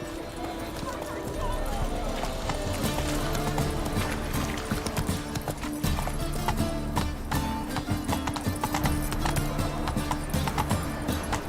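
Roach, the horse in the video game Witcher 3, trots with steady clip-clop hooves under a continuous bed of game music, with a voice speaking briefly over it.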